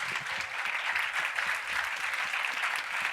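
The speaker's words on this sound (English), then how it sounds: "please welcome her with a big round of applause" Steady, dense applause from a festival audience at Fusion Festival welcomes a speaker to the stage, an even wash of many hands clapping at moderate distance with no talk over it.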